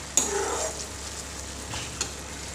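Pointed gourd (potol) fries in a pan, a soft hiss of sizzling oil with a brief stir or clink at the start and another near the end, close and fairly quiet.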